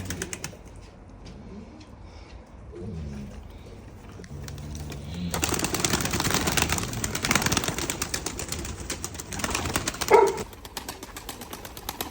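Pigeons at a coop coo softly for several seconds before a sudden burst of wing flapping as they take off, a rustling flurry lasting a few seconds, then a quieter coo follows.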